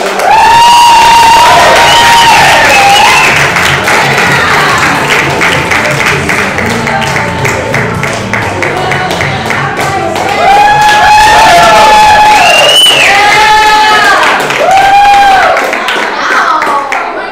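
A live comedy club audience at a stand-up show cheers, claps and whoops loudly and continuously, with crowd voices rising and falling over steady applause throughout.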